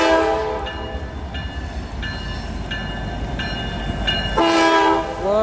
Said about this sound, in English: Here's a sample of what the K5la R24 sounds like.